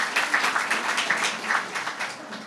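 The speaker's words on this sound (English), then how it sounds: "So maybe a round of applause for that group." Crowd applause at a ribbon cutting for an affordable and supportive housing development, a steady patter of many hands clapping at moderate distance, continuous throughout without talk.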